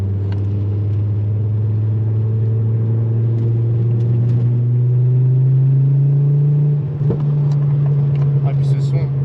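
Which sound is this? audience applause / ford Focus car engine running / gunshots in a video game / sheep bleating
ford Focus car engine running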